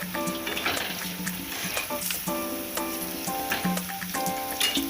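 Hot chillies frying in oil in a pan: an even, close sizzle with small bubbling pops and stirring, steady throughout at moderate loudness.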